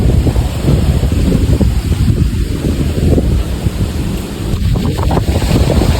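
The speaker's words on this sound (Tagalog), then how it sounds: "sobrang lakas na ng hangin dito." Strong wind from Typhoon Uwan roars steadily against the microphone, a loud continuous rumbling buffet with no voices.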